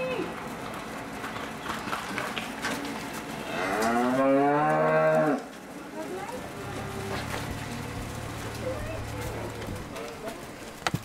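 A cow gives a loud, drawn-out moo inside a large stable holding about 160 cows, with someone talking before and after and low herd noise in the background.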